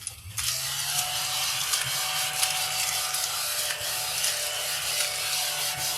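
A small handheld vacuum runs steadily throughout, a continuous close motor whine with a low hum and whirring, after a brief start at the beginning, used for a tidy-up after a craft project.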